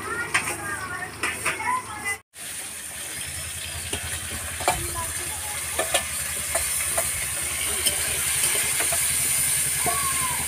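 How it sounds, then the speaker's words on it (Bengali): Hilsa fish frying lightly in hot oil, a steady close hiss and crackle with scattered pops and occasional utensil knocks, while a voice talks faintly in the background. "ইলিশটাকে বেশি ভাজলে হবে না"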